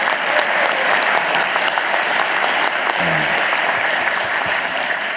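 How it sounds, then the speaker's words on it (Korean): An audience at a regional public event in Cheongju applauds for a deputy committee chair, a dense, sustained wash of clapping from a large crowd that holds steady throughout, with a faint murmur of voices beneath it. "박수라도 한번 주십시오"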